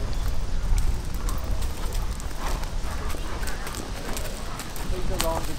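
Horse hooves clip-clop on the ground of a show jumping warm-up arena at a competition in Denmark, a steady rhythmic thudding with ambient noise and people talking over it.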